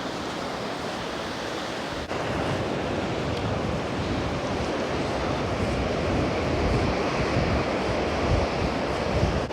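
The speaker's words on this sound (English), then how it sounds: "Look at the waves." Waves breaking on a small beach at Durness on Scotland's north coast, a loud, continuous roar of surf with wind buffeting the microphone and no voices.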